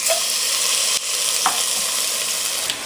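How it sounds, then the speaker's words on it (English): Oxtail sears in hot oil in a pot on high heat, giving a loud, continuous close-up sizzle with a few brief pops and crackles and no voices. "allow the oil and the heat to just kind of sear the meat real well"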